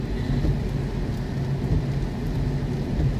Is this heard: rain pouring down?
yes